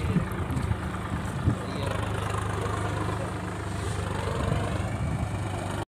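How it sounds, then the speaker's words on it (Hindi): A tractor pulling a plough through a waterlogged field rumbles with a steady low engine drone at a moderate distance, a continuous throb with faint occasional knocks. "वो रहा हमारा ट्रैक्टर, हल लगा रहा है"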